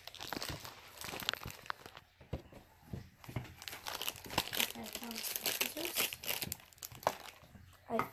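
Crinkly plastic wrapping on a mystery collectible is pulled and squeezed in close, a steady stream of crackling and rustling bursts. A person speaks briefly.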